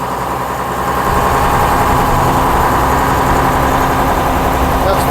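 A 1956 Daimler double decker bus with a pre-selector gearbox opening up: a loud, steady, rumbling engine drone that swells slightly as it gains revs, heard close from the driver's position with cabin rattle.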